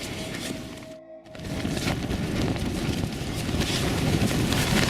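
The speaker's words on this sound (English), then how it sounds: "The wind has picked up now." Strong wind roars on Dartmoor at a winter camp, a loud, steady buffeting gust broken by one brief lull, with no voices.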